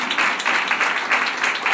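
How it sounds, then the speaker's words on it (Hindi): Audience at a church sermon applauding loudly, a bright, continuous patter of many hands clapping in waves for under two seconds. "जोरदार तालियां बजाएंगे"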